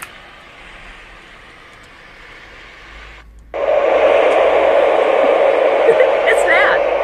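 A white noise machine runs at its loudest setting, a dense, steady hiss that jumps sharply in volume partway through and then holds constant and close, with no voices over it.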